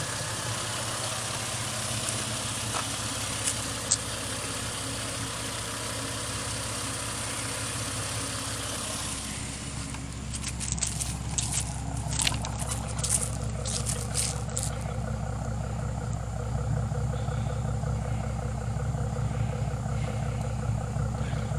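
A car engine left unused for three years idles steadily, a low, even rumble that holds throughout, with faint clicks and a slight shift in tone partway through.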